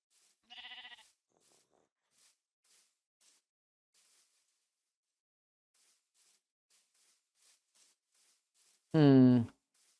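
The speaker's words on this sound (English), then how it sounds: "That's a sheep." Two separate bleats from a Minecraft sheep, a short one near the start and a louder, wavering one near the end, with faint soft ticks in between.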